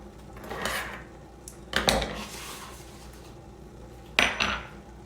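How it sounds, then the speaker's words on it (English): An Instant Pot is slid and set down on a kitchen counter while cocoa bombs are made, producing three separate close scraping and knocking clatters with short pauses between them. "let me kind of move our Instant Pot over so we'll be able to see"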